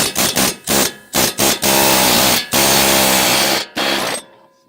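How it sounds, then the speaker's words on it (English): Pneumatic air chisel driving a pickle fork to break a car's ball joint taper, loud close hammering in several short bursts, then a long sustained rattling run, stopping abruptly. "I'm going to use the air chisel."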